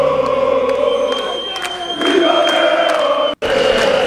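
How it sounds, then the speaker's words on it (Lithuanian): A dense crowd of Olympiacos fans chants loudly and continuously outdoors near Berlin's Victory Gate at the Euroleague Final Four, a sustained roar with rhythmic voices and brief whistles. "Olimpiakos fanai skanduoja prie pergalės vartų"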